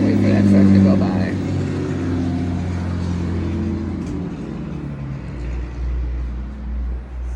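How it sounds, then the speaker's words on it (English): A truck drives past outdoors, its loud low engine drone swelling at first and then slowly fading over several seconds, with a person talking over it. "Wait for that truck to go by."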